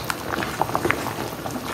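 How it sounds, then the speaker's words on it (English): A pot of stew bubbling on the stove, with soft, irregular pops and gurgles over a steady low simmer, heard close and fairly quiet with no talking. "Our stew is also boiling as well."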